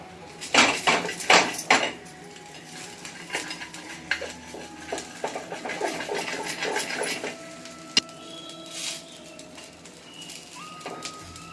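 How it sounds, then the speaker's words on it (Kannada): A pizza cutter rolling through a dosa on a pan or plate, giving clattering scrapes and metallic knocks, busy at first and then sparser, with one sharp click and faint bird calls in the background. "ಇದು ಪಿಜ್ಜಾ ಕಟ್ಟರ್ ಇದು ಈ ಥರ ಕಟ್ ಮಾಡ್ಕೋಬೇಕು"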